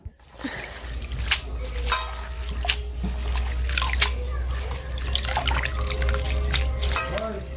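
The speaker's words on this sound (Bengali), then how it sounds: "এখানে ধনে পাতা আর শাকটা আমি ধুয়ে নিচ্ছি" Coriander leaves and leafy greens are rinsed by hand under running water in a sink, a steady close trickle and splash with irregular dripping and soft handling noises throughout.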